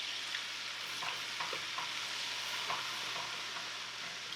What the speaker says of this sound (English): I'm going to throw my flour in there,